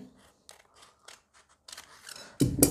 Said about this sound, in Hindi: जब कैंची चलती है तो ऑटोमेटिक दोस्तों आइडिया रहता है कि हाँ कैंची सही जा रही है या नहीं जा रही